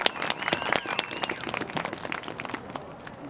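Audience applause at a marching band family night show, dense steady clapping from a crowd with a few sharper claps standing out, fairly loud and continuous throughout.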